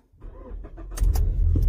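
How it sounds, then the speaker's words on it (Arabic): A car engine cranks and catches, its low rumble swelling after about a second and settling into a steady idle, close by and loud, with no voices. "شغل السيارة"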